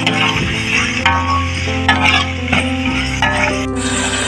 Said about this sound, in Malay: Lalu kita tumis-tumis sebentar.